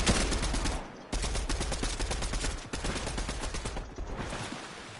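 Rapid automatic gunfire from a weapon in a video game, bursting in long loud close-up volleys with a couple of brief pauses between them, no talk over it.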